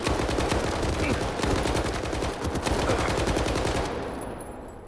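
Automatic gunfire in S.T.A.L.K.E.R. 2, rapid loud bursts with a steady rattling rhythm, close and dense for about four seconds before the shooting stops.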